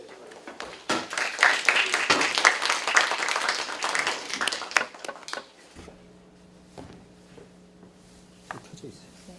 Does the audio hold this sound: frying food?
no